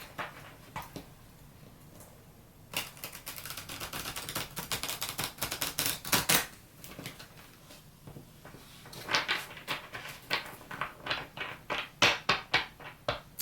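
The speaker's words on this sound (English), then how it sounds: "Just going to give this deck a little shuffle." Rapid papery riffling and soft clacks of a tarot deck being shuffled, coming in short bursts with brief pauses between them, close and fairly quiet.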